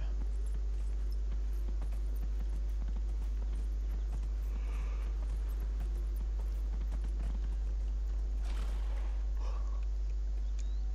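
Steady clip-clop of horse hooves at an even walking pace in the video game Dragon Age: Inquisition, continuous beneath a constant low hum, with no voices.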